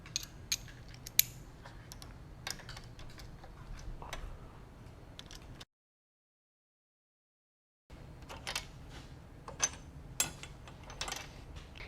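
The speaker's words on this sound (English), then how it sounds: "Next, we're going to be using a T50 Torx with an extension." T50 Torx driver on an extension loosening a shock bolt on an M8 Softail, sparse quiet ratcheting ticks and metallic clicks with scattered sharp taps, broken by a brief silent gap midway.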